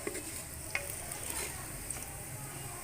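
Onions frying in a pan for arvi gosht, a steady close sizzle with occasional stirring scrapes and small pops, no talking.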